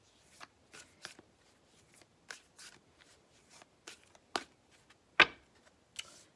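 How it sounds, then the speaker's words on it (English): Tarot cards being drawn and handled from a deck: a quiet series of separate card slides and flicks at uneven intervals, with one sharper snap near the end and no talking. "We're gonna draw 5 more cards."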